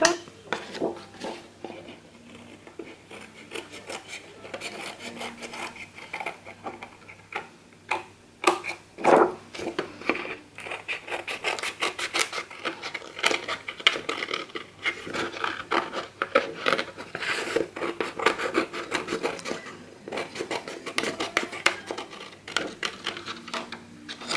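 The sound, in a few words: cutting paper for a scrapbook album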